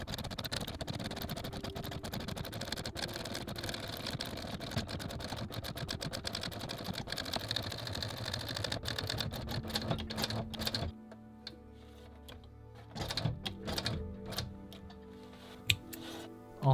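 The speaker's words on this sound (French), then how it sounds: "je vais passer sur la machine à coudre pour faire une surpiqûre sur le contour" Sewing machine topstitching around the edge of a leather camera strap, a dense rapid mechanical ticking that runs steadily, then stops and gives way to quieter handling sounds and brief bursts of stitching.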